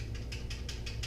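A Ruger Precision Rifle 6.5mm Creedmoor safety being flipped back and forth gives a quick, evenly spaced series of soft mechanical clicks, close and quiet.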